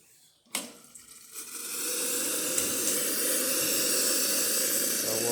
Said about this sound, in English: And let's test the hot water.